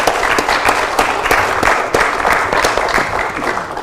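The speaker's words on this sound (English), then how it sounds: "Please join me in giving a round of applause for our panel here." Audience at a conference breaking into applause for a panel, dense continuous clapping from a crowd, loud and close, lasting throughout without speech.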